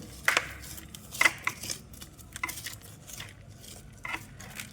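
Garden soil around a plant in a rooftop garden being loosened and stirred by hand, giving a series of irregular crunchy scrapes and soft thuds, close and fairly quiet, with no voices.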